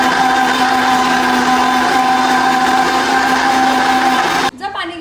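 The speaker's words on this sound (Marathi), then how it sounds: "घरामध्ये हे जे आहे वाटण, हे मिक्सरला लावण्यासाठी आम्ही घरात आलेलो आहे" An electric mixer grinder whirs loudly and steadily at close range while grinding a spice paste, with a constant motor drone that stops abruptly just before the end.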